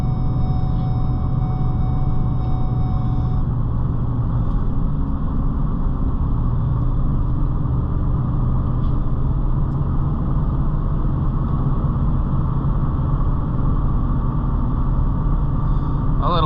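A cheap Ford Super Duty truck out on the road, its engine a loud, steady low rumble that fills the whole stretch at an even pace, with no pauses or gear changes standing out.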